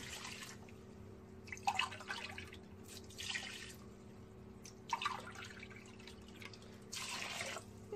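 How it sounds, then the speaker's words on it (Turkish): Water is poured from a glass over chopped carrots in a cooking pot, arriving in four separate short splashing bursts over a low steady hum, close and moderately loud. "Evet üzerine su koyacağız arkadaşlar."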